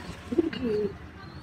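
A single pigeon gives a soft, low coo, close by and brief.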